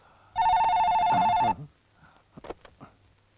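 A telephone rings once with a steady electronic trill for about a second, followed by faint rustling and clicks.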